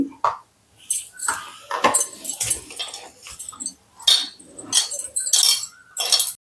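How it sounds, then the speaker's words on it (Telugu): Sweet corn vada batter with chopped onions, curry leaves, coriander and mint being mixed by hand in a bowl, giving a run of close, irregular clinking and squishing bursts, some sharp and bright, with brief pauses between them. "ఇలా మొత్తం బాగా కలిసేటట్టు మిక్స్ చేసుకోవాలి"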